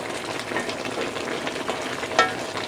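Filipino pinakbet ingredients sautéing in a pan, a steady close sizzle and crackle of frying with soft stirring scrapes and one brief louder clink near the end.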